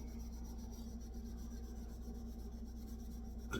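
Ultrafine 000 steel wool rubs steadily over a tobacco pipe stem in a soft, continuous faint scratching, close by and without talk.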